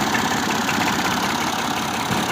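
A tractor engine idles steadily with a low, continuous rumble and faint knocking, no voices present.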